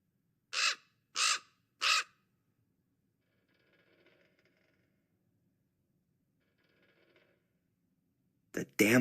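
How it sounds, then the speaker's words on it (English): A crow in the Black Mirror 2 adventure game gives three loud, evenly spaced caws close by, followed by faint indoor creaks and a sudden sharp noise at the end. "The damn bird again."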